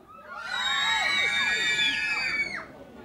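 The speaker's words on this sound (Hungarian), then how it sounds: "háromra mindenki sikít egy nagyot" A crowd at a village festival screams together on cue, a loud sustained chorus of many high voices lasting about two seconds before breaking off, with scattered individual shrieks.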